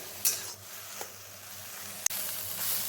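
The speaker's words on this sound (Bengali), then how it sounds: "আমি এই সমস্ত টুকরোকে খুব ভালো মতন ভেজে নেব" Prawn pieces for chingri chop frying in a pan give a faint, steady sizzle, broken by a few soft clicks of a utensil against the pan.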